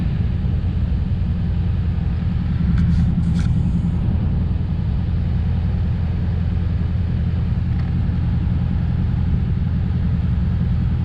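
A 1991 Chevrolet Camaro engine is held at a steady, constant rev, giving a continuous loud low rumble with no talk over it.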